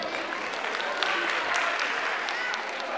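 Audience applause at a gathering for the Fouta en marche movement, a dense steady clatter of clapping hands heard up close for a few seconds.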